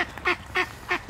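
A baby duck near chickens quacks three times at an even pace, short nasal calls up close, followed by a softer final peep.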